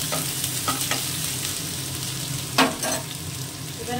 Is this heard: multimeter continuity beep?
no